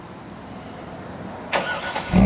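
A Chevrolet C5 Corvette engine fires up after a rough cranking rumble, catching with a sudden loud burst and then revving higher near the end, close to the car with no talking.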